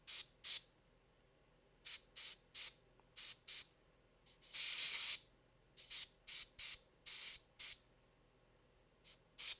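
An Iwata airbrush sprays paint onto Warhammer orc and goblin wolf rider miniatures in short, sharp hissing bursts, about a dozen quick puffs plus one longer spray midway, with quiet gaps between them and no voices.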